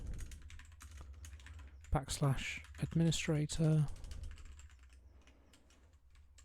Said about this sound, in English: My typing today is atrocious